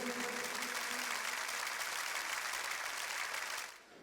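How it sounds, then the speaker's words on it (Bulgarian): Wedding guests applauding at a Bulgarian celebration during money-gift announcements; dense, even clapping held for several seconds, then dropping off sharply near the end. "Аплодисменти"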